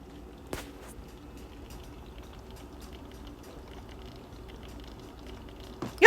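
Live crabs bubble and gurgle in a boiling pot, a steady low churning with one sharp knock early on and a louder burst at the very end.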